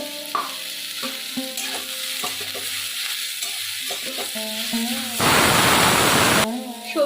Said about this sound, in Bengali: পেঁয়াজ কুচনাগুলো দিয়ে দিলাম দিয়ে ভালো করে এটা একটু ভেজে নেব